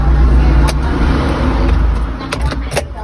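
A 2010 imported Kia Morning engine cranking and catching with a newly made key, a loud close rumble with a few sharp clicks and knocks over the idling hum.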